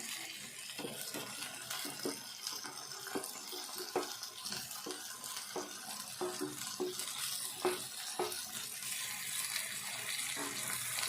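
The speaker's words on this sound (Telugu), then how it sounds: "ఇది కూడా కొద్దిసేపు వేగాలి" Ivy gourd and potato curry fries in a pan with a constant faint sizzle, broken by soft scrapes and taps of stirring at an irregular pace.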